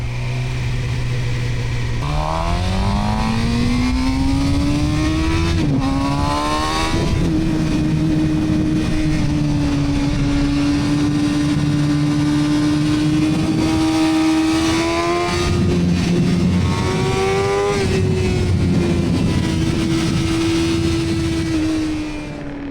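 Suzuki GSX-R600 sport motorcycle heard from the rider's position, its engine loud and close, rising through repeated throttle pulls with pitch climbing, dropping at gear changes, then settling into a steady cruise before accelerating again, with wind noise.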